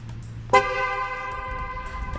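A car's horn, set off by its tire-pressure sensor, gives a single sustained honk that starts abruptly and holds steadily over a low idling hum.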